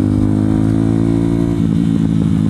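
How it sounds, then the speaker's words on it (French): A motorcycle engine hums steadily and loudly from close by during a ride, with a smooth, even drone that roughens slightly toward the end as the throttle shifts. "Avec un peu de chance, il y a le son de la moto"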